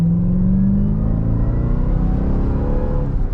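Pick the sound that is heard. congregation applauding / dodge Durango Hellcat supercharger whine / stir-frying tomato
dodge Durango Hellcat supercharger whine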